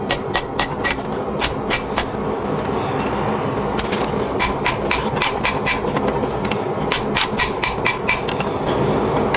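A hammer strikes a metal spatula blank on an anvil, sharp ringing blows in irregular bursts of quick strikes with short pauses, over a steady mechanical hum.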